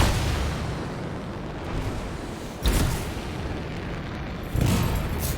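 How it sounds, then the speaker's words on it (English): Canisters go off in a contained explosion in the video game Anthem, with two deep booming bursts, one midway and one near the end, rising out of a rumbling low background. "It'll be a contained explosion."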